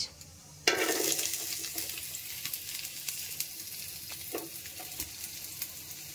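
Chopped onions hit hot mustard oil in a kadai with a sudden loud burst of sizzling that then settles into a steady, close crackle, broken by a few stirring scrapes.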